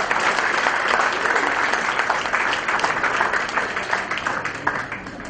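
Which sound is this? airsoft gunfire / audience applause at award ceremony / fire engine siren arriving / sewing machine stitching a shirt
audience applause at award ceremony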